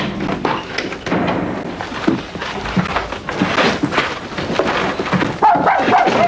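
Dog barks and yelps in a busy French film scene, several short barks mixed with thumps and background noise, no clear talk over them.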